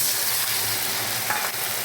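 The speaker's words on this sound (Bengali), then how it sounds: "দেখো ফ্রাই হয়ে গেছে, জল দিচ্ছি" Potatoes sizzle and fry in a pan for a village-style aloo posto dish, a steady close hiss with a brief surge of bubbling as water goes in.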